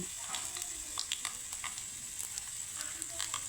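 Garlic, cumin and mustard seeds fry in hot oil in a kadai for a tempering, giving a steady close sizzle with scattered crackles and pops throughout, no voices over it.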